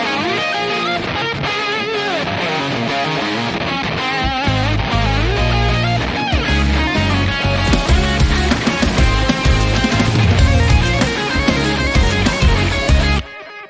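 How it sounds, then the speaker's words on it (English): Electric guitar drenched in reverb and delay, ringing notes smearing into each other, later joined by a full band with bass and drums. "So with the other guitar, it sounds like this."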